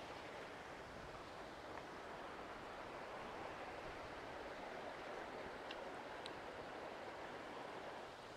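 Wilton Stream in Maine flows beneath a bridge, a soft, steady burble and rush of water heard from a distance, with no talk.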